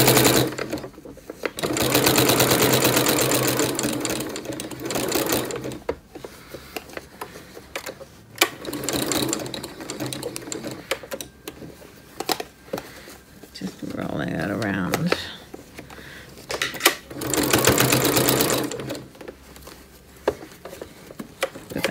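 A sewing machine stitches a fabric notebook cover in several bursts of rapid mechanical chatter separated by pauses, with a voice talking quietly at times in between.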